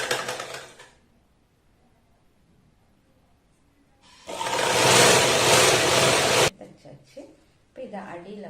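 A sewing machine stitches a quarter-inch seam on fabric in a steady, loud, whirring run of about two seconds, with talk before and after it.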